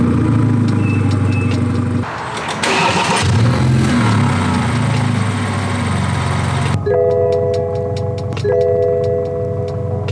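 A BMW engine cranks and catches, then idles with a steady mid-pitched hum before a run of crisp, evenly spaced ticking clicks takes over.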